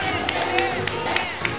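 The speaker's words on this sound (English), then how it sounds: "Let's give the choir a hand for us." A church congregation clapping for the choir at a Sunday service, a brief burst of scattered hand claps and light crowd noise in a reverberant room.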